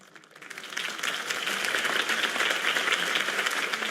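Crowd applause from Batman: The Telltale Series video game swells from quiet into a dense, sustained wash of clapping that holds at full strength for several seconds, with no talking over it.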